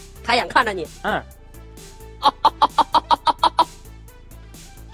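On a comedy stage, a performer mimics a northeastern Chinese hen: a few throaty squawks first, then a steady, even run of about eight clipped clucks, close and clear, with a little speech at the start.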